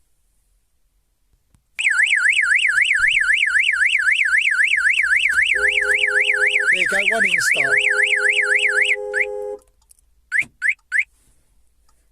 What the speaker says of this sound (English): Alarm's going mad